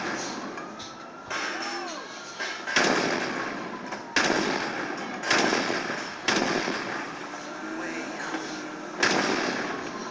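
Flaming bullets fire in GTA 5, a series of sharp blasts and cracks that repeat at irregular intervals over a noisy game background, each burst loud and close and followed by a decaying rumble.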